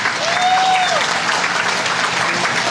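Steady applause from a large crowd fills a political rally at a party machinery gathering in Sepang, Malaysia, loud and continuous with a faint whistle-like tone early on and no talk over it.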